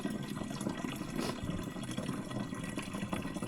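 Steady water flowing in a rural forest setting in Laos, a continuous broadband rush without pause, moderately loud and close, with no talk over it.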